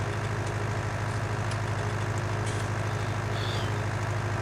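A tractor engine in Farming Simulator drives slowly at a steady low drone with a throbbing rhythm, heard alone and loud throughout.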